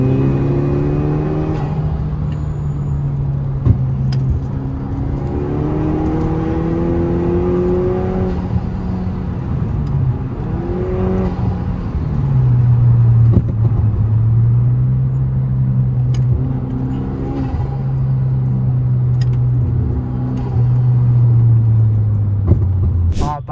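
A tuned stage 3 Volkswagen Jetta is driving, its engine a steady loud rumble from inside the cabin that rises and falls with gear changes and revving, with no talk over it.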